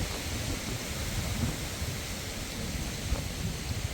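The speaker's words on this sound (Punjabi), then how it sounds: "ਹੁਣ ਬਾਰਿਸ਼ ਸ਼ੁਰੂ ਹੋ ਗਈ ਹੈ" Rain falling during a windy storm, a dense, unbroken wash of noise with low gusty rumbling underneath, steady and fairly close for the whole stretch.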